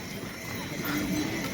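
Horse hooves clop along the mountain pilgrimage path to Kedarnath, faint and mixed into outdoor noise while people talk nearby.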